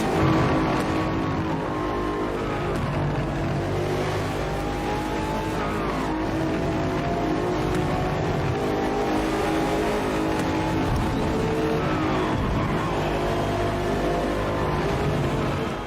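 BMW M8 race car driven in Forza Motorsport, its engine droning and revving continuously with rising and falling pitch sweeps as it accelerates and shifts, loud and steady throughout with no talk.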